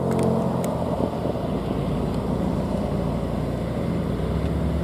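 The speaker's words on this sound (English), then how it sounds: "Just heard these guys arriving. Porsches let loose for a Friday night." A group of Porsche sports cars heads out on a Friday night up a mountain road toward Les Orres 1800. Their engines make a loud, sustained low rumble close by, with no talking.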